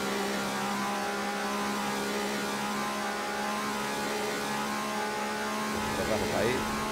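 A race car in the Assetto Corsa racing game holds a steady engine drone, with a brief rise in pitch near the end as it shifts up a gear; the sound is fairly faint and constant.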